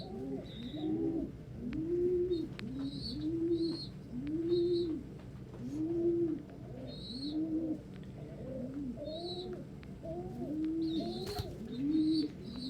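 Pigeons or doves coo repeatedly at a backyard feeder, a regular series of soft rolling calls at moderate distance with occasional higher chirps from smaller birds in between.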